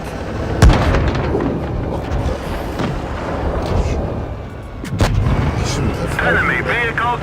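A blast as an enemy vehicle is destroyed in a tank battle video game, with a sharp explosive crack near the start and another boom around five seconds, over a constant rumble of engine and battle noise and someone talking.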